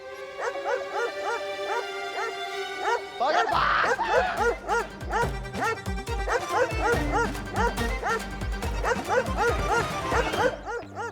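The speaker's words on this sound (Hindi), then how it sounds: "फिर ये इतनी जोर से कैसे भौंक रहा है?" A small dog barks loudly in rapid, repeated bursts, mixed with yips and whimpers, over a steady tonal background.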